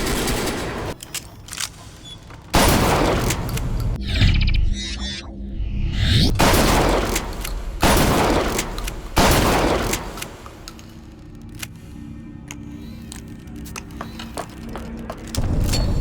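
Automatic shotgun fired in a first-person shooter game, with several loud, booming blasts at irregular intervals separated by quieter gaps and mechanical reload clicks.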